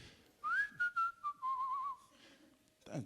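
A person whistles a short melodic phrase alone, a clear sliding tune with a few separate notes and a wavering held tone, close and fairly quiet.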